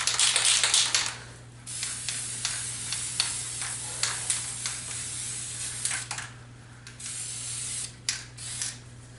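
Spray paint is applied in short, bursty hisses to a pants leg, a series of close, sharp spritzes separated by brief pauses over a steady low hum.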